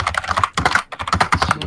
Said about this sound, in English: That keyboard sounding.